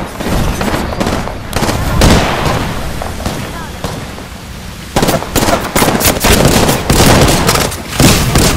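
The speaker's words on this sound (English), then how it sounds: "Throwing thermite grenade." Thermite grenade thrown during an Apex Legends match, with loud bursts of crackling and booming game gunfire and explosions in dense clusters, pausing briefly before erupting again.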